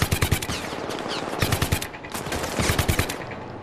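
A Riot Lance gun in a video game fires loud, close four-round bursts, several quick bursts in a row with short gaps between them.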